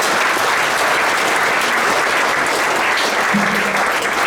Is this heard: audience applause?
yes